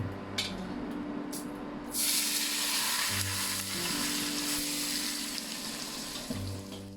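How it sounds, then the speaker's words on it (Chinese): Hot oil poured over sliced cucumber with salt and Sichuan pepper powder hisses in a loud, steady sizzle that swells sharply partway through and keeps crackling broadly, with a low tonal hum running underneath. "油热后浇在黄瓜配料上面"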